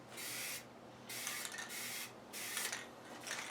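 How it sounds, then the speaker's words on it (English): An aerosol spray can is discharged during a budget makeover of a 1996 Ford F250 4x4 truck, giving three quiet hissing bursts of about one second each, separated by short pauses, with no talking. "Oh, the spray can's spraying."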